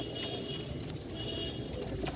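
Soft, low pigeon cooing repeats over a steady background murmur, with a few faint higher chirps scattered through.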